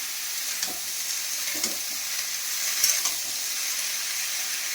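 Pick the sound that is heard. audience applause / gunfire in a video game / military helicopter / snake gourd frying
snake gourd frying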